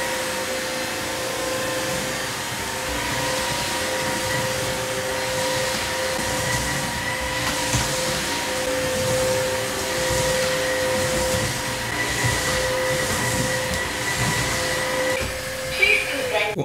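An ILIFE W90 cordless 2-in-1 vacuum in wet mode runs steadily with a loud whirring motor drone and a constant high tonal whine, continuing without letup throughout.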